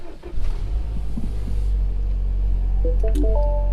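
A MINI Countryman S engine turning over via push start button, a deep rumbling idle settling in close by, with a few dashboard chimes near the end.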